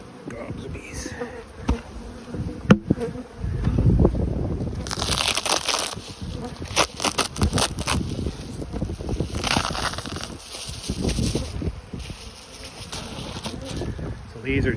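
Dense buzzing of many bees fills the air, rising and falling in waves, with rustling and handling noises close by.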